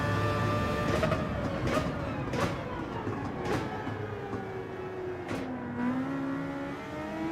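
A Dodge Viper engine at high speed in Gran Turismo 7, a sustained loud roar with a steady tone that shifts in pitch as it changes gears, and a few brief clicks and knocks.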